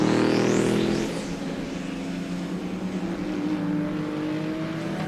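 Twin-turbo Audi RS6 race cars drafting nose to tail down a straightaway at Road Atlanta during a 2004 World Challenge GT race, engines droning loud and steady, with a rising whine as one passes close at the start.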